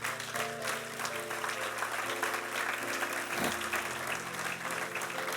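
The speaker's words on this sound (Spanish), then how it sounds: "Dar un aplauso al Señor." A church congregation claps for a steady few seconds, a soft, distant-sounding patter under sustained organ or keyboard tones.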